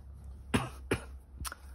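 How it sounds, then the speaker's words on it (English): Three short, close coughs spaced about half a second apart, fairly sharp, with quiet background in between and no talk. "A little cough there."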